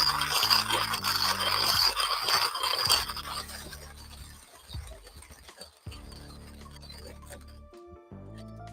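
A Timemore hand grinder crushes coffee beans, a gritty rasping crunch that is strong at first, then thins and fades as resistance drops, leaving lighter scraping near the end.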